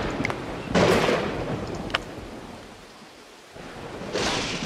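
Thunderstorm in the video game Dawn of Man: sharp thunder cracks at moments break over a steady hiss of rain, dipping briefly quieter before another burst, with no voices.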